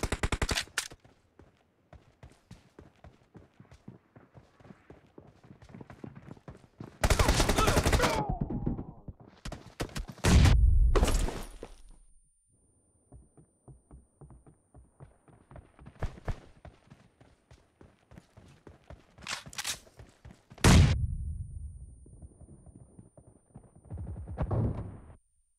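Gunfire in a video game shooter: loud bursts of rapid shots separated by long quiet gaps, each volley sharp and close.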